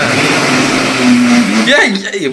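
An old mixer grinder's high whine runs steadily while blending a weight-loss drink, then its pitch drops as it slows, with voices chiming in at the end.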